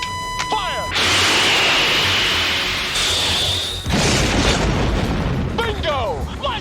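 Missile launch and explosion during a fighter-jet dogfight in Top Gun: a loud, sustained roaring whoosh with a booming burst, followed by a second surge of rumbling blast noise, with radio chatter in the background.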